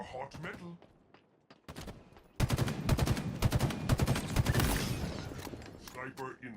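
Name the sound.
gunfire in Halo Infinite video game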